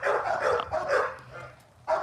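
A bandog barking in short, close bursts, a quick run of three or four rough barks followed by a brief pause and one more bark at the end.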